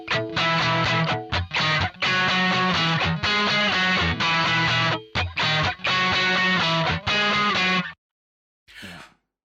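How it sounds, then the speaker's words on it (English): Final guitar part of a song, a loud distorted guitar phrase of choppy chords with short breaks between bursts, ending abruptly followed by a brief faint noise. "there is one cool. final guitar part that happens just the once"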